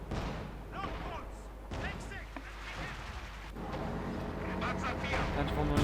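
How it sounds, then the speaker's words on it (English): Mortar emplacement firing in the Company of Heroes 2 strategy game, muffled booms and battle noise rumbling beneath continuous commentary, growing denser toward the end. "In progress, mortar emplacement firing, trying to silence. And mortar fire here."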